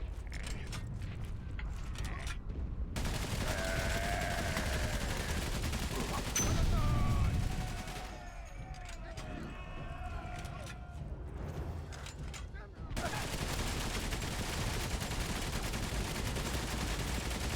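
Enemy soldiers firing on the player at Ypres in the WWI game Valiant Hearts: The Great War, sustained gunfire and mechanical clatter in stretches broken by quieter gaps, with tonal game sounds layered over it.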